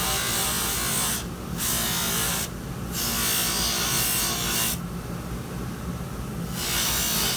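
Dentures being polished with pumice on a lathe wheel during trimming and finishing, a steady close rubbing and grinding whir that runs throughout, with brief pauses around the first and third seconds.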